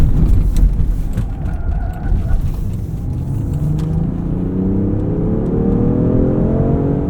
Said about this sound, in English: So the internal combustion engine will be on all the time.